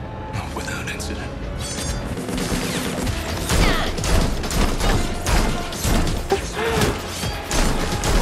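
Rapid bursts of video game gunfire crackle and boom loudly, with impacts and crashes layered over one another, while a voice talks through it.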